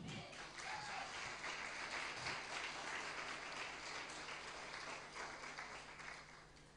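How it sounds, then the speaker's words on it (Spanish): A church congregation applauds during a live worship service, a steady wash of many hands clapping that holds for several seconds, soft and somewhat distant, then thins slightly toward the end. "Vamos, un aplauso para Dios."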